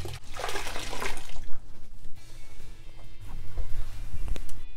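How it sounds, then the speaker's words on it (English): ShamWow cloth being dunked and wrung in soapy water in a sink, with sloshing, splashing and dripping sounds, loudest at first, then softer swishing and trickling. "Get the ShamWow nice and wet."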